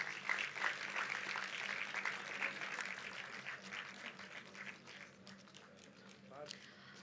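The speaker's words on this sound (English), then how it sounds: "Give them a huge round of applause." Audience applause at a university anniversary ceremony as Sports Society members come to the stage, a sustained crowd clapping heard fairly distant and fading slightly toward the end, with a voice speaking over it.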